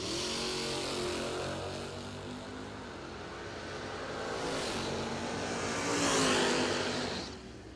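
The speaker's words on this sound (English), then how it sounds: "Gen 2 Camaro coming up now" A Gen 2 Camaro drag race car at the IHRA World Finals, a sustained loud engine drone with rising revs that build to a peak near the end before easing off, no voices.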